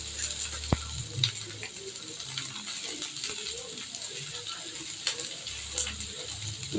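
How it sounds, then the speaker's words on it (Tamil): Onions and green chillies sauté in hot oil with mustard seeds, a steady soft sizzle with occasional stirring clinks and small pops, close by and fairly faint. "இப்போ நம்ம வதக்கலாம் ஃப்ரெண்ட்ஸ். வெங்காயம் வதங்கிடுச்சு"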